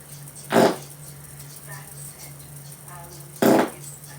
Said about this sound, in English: Over the years, my farts have been absolutely magnificent.